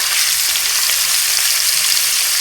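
Fish frying in hot oil over a wood-fired earthen stove, a loud, dense, continuous hiss and crackle of sizzling, close up with no voices.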